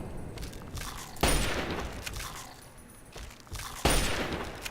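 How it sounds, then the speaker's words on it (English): Rapid bursts of gunfire from the video game Fallout 3 crackle in close, with two sharp louder volleys standing out amid a continuous rattling of shots. "Need to get it in a good position so I can actually shoot him."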